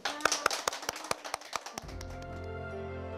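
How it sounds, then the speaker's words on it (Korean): A small group of young children clap in an early-childhood newspaper-education class, a quick run of distinct claps lasting under two seconds before a sustained tonal sound takes over. "박수!"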